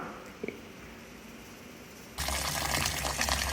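Quiet room tone, then a sudden steady rush of water pouring into a pot on a stove, continuing loudly to the end.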